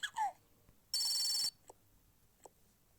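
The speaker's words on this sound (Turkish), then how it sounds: "Kızım telefon çalıyor." A telephone rings indoors at home with one short, bright burst of tone lasting about half a second, followed by a few faint clicks and knocks in an otherwise quiet room.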